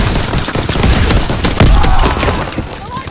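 Shotgun fire in the video game Call of Duty WW2, loud and dense, with overlapping blasts and battle noise running through the whole stretch and no clear pauses.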